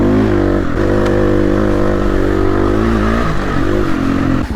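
A Husqvarna 350 FE dirt bike engine drones loud and close while the rider stands on the pegs, holding a steady rumbling pitch with slight rises and dips in throttle throughout.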